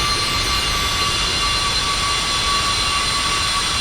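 In X-Plane 11, a Citation business jet's engines hold a loud, steady whine and roar with extra thrust as it taxis off the runway toward a hangar, with no break in the sound.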